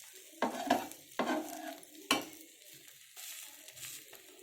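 A bread omelette fries in a pan on a stove, with soft sizzling broken by several distinct scraping and turning clatters of a spatula against the metal, close and unhurried, without speech.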